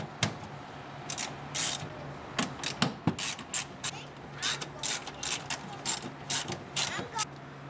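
A hand ratchet loosens 10mm bolts on a cover inside a Nissan 240sx, giving close, bright clicking bursts in quick repeated strokes over a low steady background hum.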